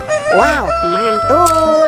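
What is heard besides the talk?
rooster crowing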